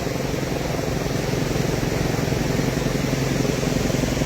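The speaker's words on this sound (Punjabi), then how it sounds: "ਇਹ ਆਇਆ ਦੂਆ ਹੈਲੀਕਾਪਟਰ ਦੁਆਰਾ ਦੇਖੋ" A second helicopter circles over the flooded Ravi river near Lakhanpur and Kathua, a continuous broadband rotor roar, loud and even, building slightly and staying steady to the end, with no speech.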